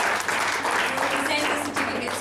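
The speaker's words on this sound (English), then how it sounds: "please give them a big round of applause" Audience applause at a women's summit closing ceremony, a dense wash of clapping filling the hall, loud and sustained, with a voice faintly over it.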